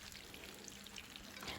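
Homemade KFC-style chicken pieces fry in hot oil, giving a steady hiss of fine crackles and occasional brighter pops heard up close, with no talking.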